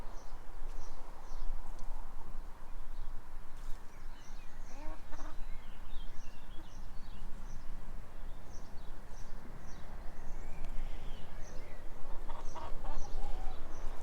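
Chickens cluck and call softly, scattered through a steady outdoor garden background, faint and at a moderate distance, with no talk.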